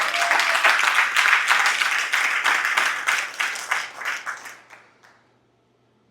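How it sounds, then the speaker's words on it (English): An audience at a leadership summit claps in a loud, full round of applause that holds for several seconds, then thins out to a few last claps before silence. "Woo, give him a round of applause."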